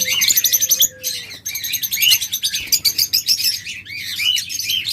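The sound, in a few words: lovebirds chirping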